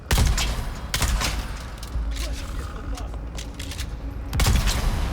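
Rifle fire and a grenade blast in the video game Dune: Awakening, with loud broadband bursts at the start, near the one-second mark and again near the end, over a steady bed of game noise and voices.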